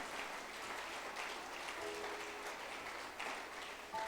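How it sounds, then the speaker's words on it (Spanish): A church congregation applauds during an evening service, a continuous even patter of many hands held at a moderate distance. "denle un aplauso al Señor en esta hermosa noche"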